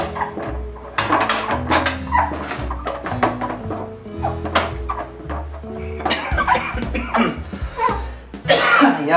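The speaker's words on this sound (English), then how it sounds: "It's getting in my lungs too and it makes me want to cough." Harsh coughing and throat clearing from sodium metabisulfite fumes while sanitising homebrew equipment, several close bursts mixed with clattering container and dish knocks.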